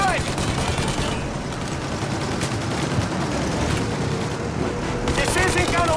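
Sustained gunfire aimed at the engines of a plane taking off in Mafia Definitive Edition, a dense continuous barrage with engine roar mixed in, steady and loud throughout the stretch.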